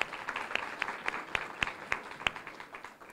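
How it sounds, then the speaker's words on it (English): Audience applause at a college dental hygiene pinning ceremony: steady clapping from a crowd with several sharper individual claps standing out, moderately distant and fading slightly toward the end. "So let's give them a round of applause."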